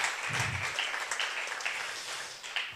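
A church congregation applauds and cheers the name of Jesus, steady clapping with scattered shouts and whoops spread through a large room, moderately loud and continuous.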